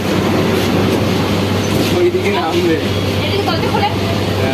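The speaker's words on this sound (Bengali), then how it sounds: "কালীঘাট ছেড়ে চলে যাচ্ছে গাড়ি, এবার যাবো রবীন্দ্র সরোবর" A Kolkata metro train pulls out of Kalighat station with a loud, steady rumble and faint wheel clatter, while people talk nearby throughout.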